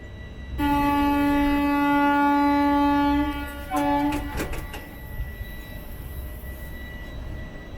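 Trichy Intercity Express (22628) sounding a long, loud steady horn as it departs Nagercoil Town station, followed by a few shorter blasts, then fading to a quieter rumble of the moving train.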